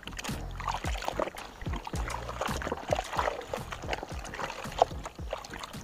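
Washed socks are rinsed by hand in water, with continuous close sloshing, splashing and trickling and irregular dripping pulses throughout.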